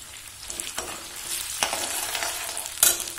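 Thin raw potato slices frying in oil with garlic for pumpkin-leaf saag, stirred with a spatula: a close, steady sizzle broken by a few sharp scraping knocks against the pan.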